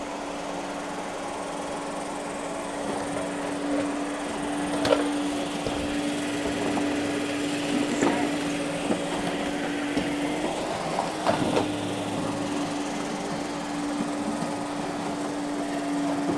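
Roborock Q5 Plus robot vacuum running alone at low level, a steady motor hum with a constant tone and occasional faint clicks and bumps as it moves.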